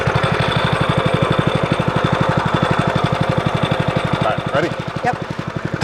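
A rented post hole digger's gas engine chugs loud and close in a fast, even pulse, holding steady throughout while a couple of people exchange brief words over it.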